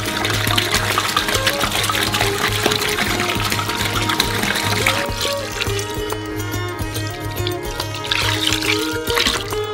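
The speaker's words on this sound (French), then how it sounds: "Lorsque tout est bien mélangé, versez le reste de l'eau." Water pours and trickles steadily into a cocoa mixture for homemade ice cream, a continuous close liquid stream running alone for several seconds.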